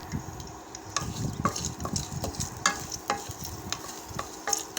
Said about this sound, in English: The crushed garlic we have to add, and we have to fry it until we get the nice aroma.